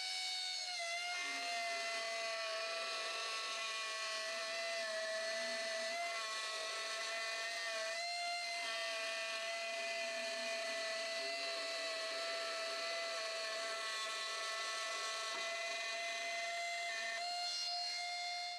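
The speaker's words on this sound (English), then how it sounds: "I'm going to turn it on full blast and I'm just going to have my way with this piece of ebony." An air-powered micro die grinder running at full speed while cutting freehand through a piece of ebony gives a steady, high-pitched whine with a hissing airy edge. It holds constant and unbroken throughout, with no talk.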